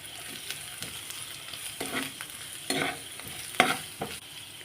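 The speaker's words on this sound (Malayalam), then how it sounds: "അര സ്പൂണ് കടുകും ഒരു വലിയ സവാള നീളത്തിൽ കട്ട് ചെയ്തതാണ് ഇട്ട് കൊടുക്കുന്നത്. ഇനി നമുക്ക് ഇതൊന്ന് വഴറ്റി കൊടുക്കാം." Half a spoon of mustard seeds and one large onion cut lengthwise sauté in a pan, giving a soft steady sizzle broken by irregular stirring scrapes and clinks, close and moderately quiet, with no talking.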